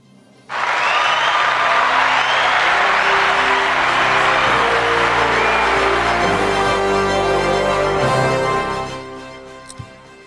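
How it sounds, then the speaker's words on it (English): Loud, sustained applause with cheering, whoops and shouts from an audience at an award ceremony, swelling suddenly and holding steady for about eight seconds before fading out. "Thank you for the applause."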